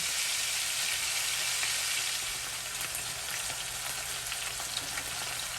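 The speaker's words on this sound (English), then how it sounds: "we're gonna turn the steak around and let it cook for like another 4 to 5 minutes" A thick marinated steak sizzles steadily in a hot pan, a loud, continuous, close crackling hiss with no talking.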